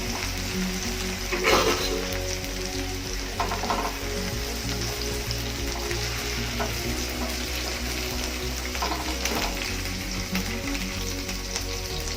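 Okra (bhindi) fries in a pan with a constant close sizzle and crackle, broken now and then by soft clatters of stirring.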